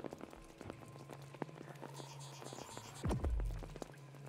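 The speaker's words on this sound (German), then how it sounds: "Wir wollten doch alle nur diesen wunderschönen Regenton hören." Steady rain patters through a quiet scene in the horror game Apsulov: End of Gods, with a low hum underneath and a brief heavier rumble partway through.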